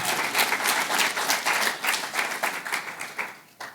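Warm audience applause at a Slovenian Independence and Unity Day ceremony in Ormož, a dense crowd clapping steadily for several seconds before tapering off at the end.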